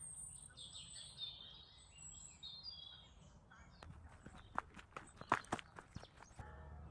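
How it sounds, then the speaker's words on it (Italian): Faint bird chirps and calls over an outdoor background at a nature oasis in Zugliano, Italy, followed by a run of sharper clicks and taps near the end, with no talking. "sentite che, che richiami di uccelli rilassantissimo"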